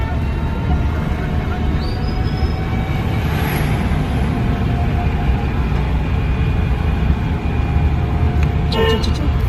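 Inside a driving-school car, a constant low engine and road drone holds at an even loudness, with a faint whine and a few sharp clatters near the end.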